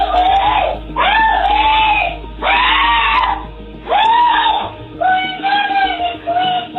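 A woman screaming for help inside a laundry room, captured on a CCTV recording: several long, loud, anguished cries in repeated bursts with short gaps, close and harsh.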